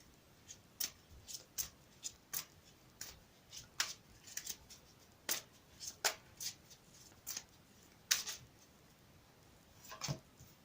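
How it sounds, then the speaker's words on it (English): Cards are shuffled by hand in a series of crisp, irregular flicks and riffles, close and fairly quiet, with no talking. "I've already pre-shuffled these, but I'm going to shuffle them again for you on camera"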